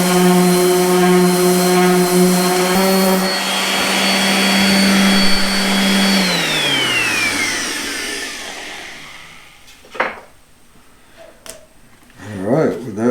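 Power sander working a custom wood floor transition with 120-grit sandpaper, a loud steady whine that winds down and stops, followed by a few sharp knocks and handling sounds.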